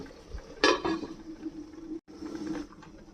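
A lid clinks onto a pan of flat beans with poppy seeds, then the covered pan gives off a soft, steady simmering hiss and faint bubbling, close and quiet.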